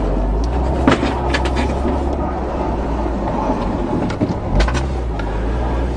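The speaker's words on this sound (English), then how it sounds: "Brakes sure sound rusty." Low engine rumble of a 1991 Honda Accord on a test drive, with scraping, squeaky rusty brakes and a few clunks and rattles from junk in the back, fairly close.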